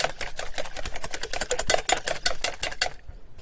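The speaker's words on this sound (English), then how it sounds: "If you don't have a whisk, just use a fork." Fork whisking eggs in a bowl for French toast custard, a quick run of rhythmic clicking taps against the bowl, close and fairly loud, stopping abruptly near the end.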